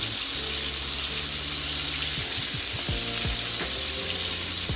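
Pieces of shark fry in hot oil for Trinidad bake and shark, a loud steady close sizzle filling the whole stretch with faint clinks and low kitchen sounds, no talking.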